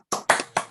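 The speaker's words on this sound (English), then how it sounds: "give a round of applause to all of our esteemed graduates" Three separate claps sound close and clear, evenly spaced and alone, as a few people applaud graduates at a virtual ceremony over an online platform.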